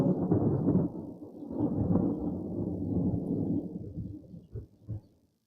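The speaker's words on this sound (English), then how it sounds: "This sound effect is called Thunder Rumble 2." Deep, rolling thunder rumbles on steadily, swelling and easing, then breaks into a few sharper cracks before fading out.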